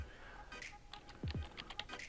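A file name is typed on a computer keyboard, a quick run of close, crisp key clicks with a couple of heavier thumps, quiet and alone with no talking.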